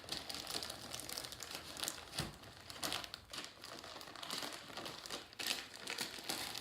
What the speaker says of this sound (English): you can take your other Ziploc bag, stuff it in there like so.